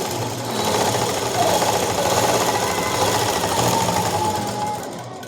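A sewing machine stitches the side joint of a long frock, running at a steady fast chatter close by for several seconds with no pauses.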